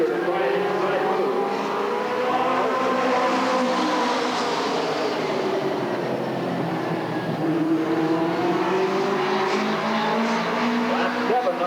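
Race cars circle an oval dirt track at Redwood Acres Raceway, a loud, unbroken pack of engines whining and sweeping past in overlapping tones, with a commentator speaking over the roar.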